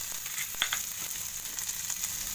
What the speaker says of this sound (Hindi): हल्की धीमी आंच में थोड़ा सा भून लेना है 1 से 2 मिनट के लिए